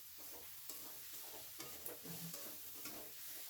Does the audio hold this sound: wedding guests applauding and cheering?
no